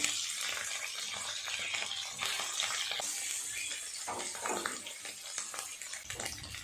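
Eggs and potatoes frying in oil in a pan for an egg curry, a steady crackling sizzle with occasional stirring, heard close and moderately quiet with no talk.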